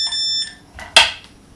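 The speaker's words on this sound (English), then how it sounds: "This is some sort of alarm." An electronic alarm on a Vortex 250 Pro racing drone sounds two short high-pitched beeps, followed by a brief click or clatter nearby.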